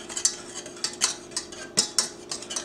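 A spoon stirs a roux in a pot to smooth out lumps, with quick scraping clinks of metal against the pan in an uneven rhythm, close and fairly clear.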